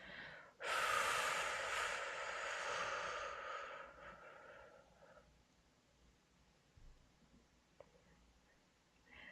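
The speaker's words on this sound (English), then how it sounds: "on the count of 8, we breathe out" A long, slow exhale during a 4-7-8 breathing exercise, starting with a sudden airy rush that stays strong for a few seconds and then fades into quiet breathing and faint rustling.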